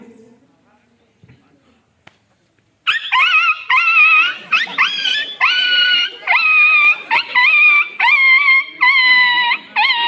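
A person's voice imitates a dog, starting after a quiet pause with a loud, close series of yelping, whining barks in quick repeated bursts.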